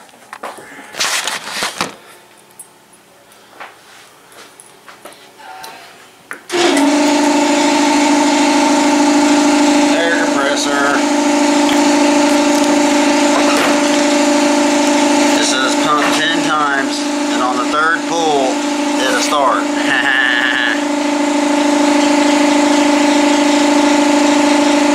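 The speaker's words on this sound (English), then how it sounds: "Want to see my Pole and Pro backpack blower blow off that sidewalk?" A backpack leaf blower clearing a sidewalk. After a few seconds of quieter background noise, its engine kicks in as a loud, steady, droning roar that runs on without a break.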